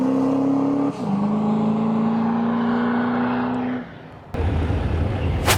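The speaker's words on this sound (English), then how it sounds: "Got the Bryce pulling up with his Duramax Powered Nova for his first pass." A Duramax diesel-swapped Chevrolet Nova at a drag racing event in Rimbey, Alberta drones with a steady, loud engine tone that shifts pitch once, then drops and gives way to a sudden burst of broadband roar near the end.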